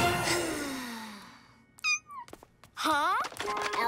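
A cartoon cat meows twice amid animated-show sound effects, with sharp rising and falling cries standing clearly apart after a fading tonal sweep.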